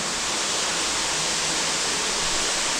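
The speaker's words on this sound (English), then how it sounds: "alone at a waterfall in a cave." Steady, dense roar of a waterfall inside a cave, continuous and loud with no breaks, filling the space and heard alone without voices.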